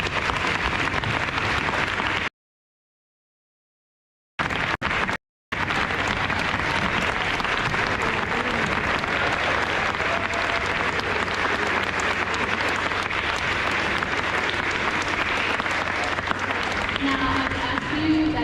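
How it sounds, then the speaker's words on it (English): A crowd applauds veterans at an outdoor Veterans Day ceremony in Bradford, a dense, steady wash of clapping that resembles rainfall. It cuts out in two short dropouts early on, then continues at an even level with a faint low hum beneath. "Please join me in a round of applause for those who served in our country."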